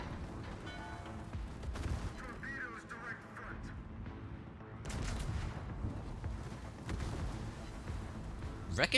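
Naval gunfire and shells glancing off a warship's armor in World of Warships, a dense, continuous battle din of booms and clanks with a voice talking over it.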